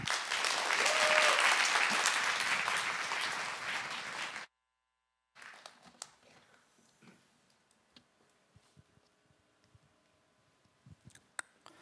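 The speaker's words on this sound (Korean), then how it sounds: "선교사님 환영하는 박수로 모시겠습니다" A church congregation at a Wednesday service claps to welcome a visiting missionary, loud sustained applause that cuts off abruptly, followed by a quiet room with scattered clicks and small knocks.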